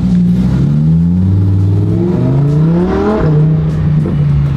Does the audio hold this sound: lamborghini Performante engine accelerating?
yes